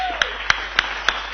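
Clapping rings out as four or five sharp, evenly spaced claps over a steady hum, short and close rather than a full crowd's applause.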